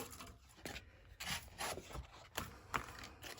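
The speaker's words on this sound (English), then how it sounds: "now what I'm going to do is further sand it" Sandpaper rubs over a heat-embossed Christmas card in short, soft scratchy strokes, an uneven rhythm of quiet rasps close by.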